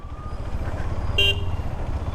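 Steady road traffic rumbles low and faint, and a single short car horn toots briefly partway through.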